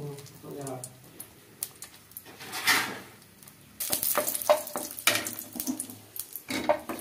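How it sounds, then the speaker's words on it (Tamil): Red chillies frying in groundnut oil in a pan give a soft crackle and sizzle, punctuated by clinks and scrapes of a utensil, close and quiet, with a person speaking over it at times. "ஒரு அரைக்கரண்டி கடலெண்ணெய் ஊற்றிங்க. சிவப்பு மிளகாயை முதல்ல போட்டு வறுத்துங்க."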